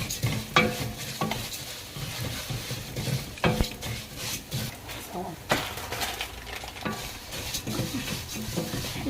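Frying in ghee and oil in a cooking pot, a steady sizzle broken by repeated stirring scrapes and clinks of a utensil against the pot, close, with talk over it.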